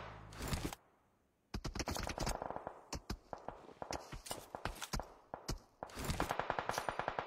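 Gunfire in a battle royale video game crackles in loud, repeated shots and short bursts, with one near-silent gap before it resumes and grows denser toward the end.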